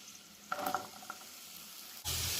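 Chopped large onion dropped into a pan for a green peas egg masala, a soft hiss with brief stirring clatter, then a sudden loud, bright sizzle that continues to the end.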